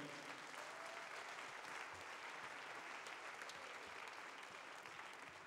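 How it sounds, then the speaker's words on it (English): A worship congregation at Marsham Street gives the band a round of applause, a steady, even wash of many hands clapping, heard faint and distant throughout. "give them a round of applause"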